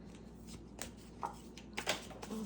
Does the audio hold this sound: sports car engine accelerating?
no